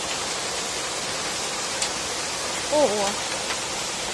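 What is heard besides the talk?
hail hitting a window ledge during a heavy downpour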